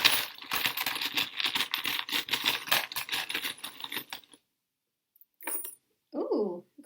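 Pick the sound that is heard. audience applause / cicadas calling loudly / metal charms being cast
metal charms being cast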